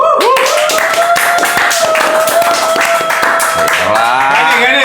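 A small group claps hands in quick, ragged sharp bursts inside a room at a supposedly haunted house in Darmo, Surabaya, loud and close, while a sustained voice rises and falls over the clapping.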